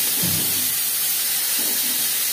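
Ginger and green chili paste sizzling in hot oil with fried panch phoron and chili for a vegetarian aloo dum, a loud continuous hiss with low bubbling swells, close and alone.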